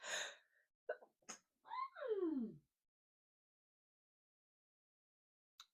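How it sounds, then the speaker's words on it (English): A single close sneeze bursts out after a few sharp breaths and a strained wail-like exhale, then quiet follows. "Oh my God, I feel like I'm going to sneeze."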